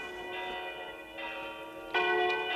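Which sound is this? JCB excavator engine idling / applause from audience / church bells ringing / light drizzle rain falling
church bells ringing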